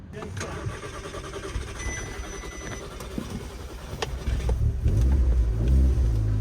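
An Audi S3 car engine cranks and sputters, then catches and settles into a loud, rough idle near the end, with a person talking over it.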